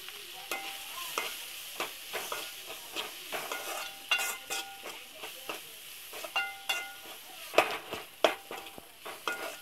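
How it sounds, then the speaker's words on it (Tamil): Tomatoes sautéing in a pan for a green gram kuzhambu, with a steady sizzle under repeated scraping stirs of a spoon against the pan, close and moderately loud, no talking. "இந்த டைமில் தக்காளி சேர்த்துக்கலாம். இதையும் நம்ம நல்லா வதக்கி எடுத்துக்கலாங்க."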